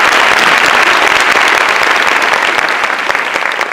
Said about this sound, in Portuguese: Salve de palmas para o Flávio Melo